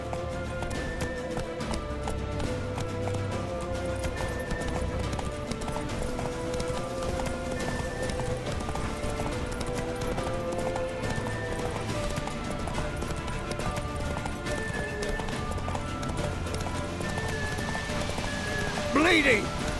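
The horse Roach galloping in the video game The Witcher 3, with rapid rhythmic hoofbeats running throughout under game music and voices, and a brief louder accent at the very end.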